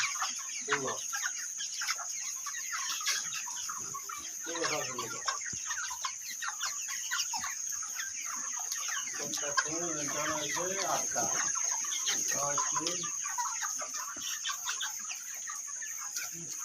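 Chickens clucking continuously at moderate distance, a busy flock murmuring with occasional louder calls over a steady background hiss.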